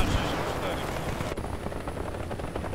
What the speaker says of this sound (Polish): O Boże, jaki śmigłowiec.